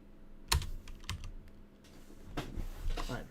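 A few close computer keyboard keystrokes, one sharp tap and then a short flurry of clicks.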